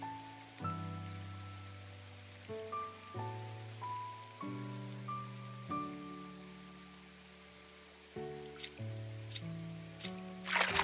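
Rain falls in the farming video game Coral Island, a soft steady hiss running beneath a louder, gently stepping melody of game music throughout.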